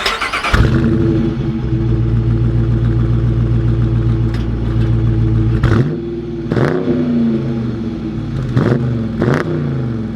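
2020 Dodge Challenger Shaker V8 pulling away, a loud steady engine drone holding, then a series of sharp revving bursts as the car accelerates through gears, close and without talk.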